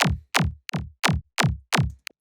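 A second synth layer for a drum and bass bootleg plays a run of six short stabs, each with a bright attack sliding downward in pitch, separated by clean gaps, moderately quiet, with no voices.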